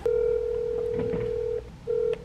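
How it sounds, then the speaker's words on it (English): Phone being dialed to call a sales lead, close, clear touch-tone beeps, one long tone followed by a short one after a brief gap. "Let's make some phone calls and see if we get lucky."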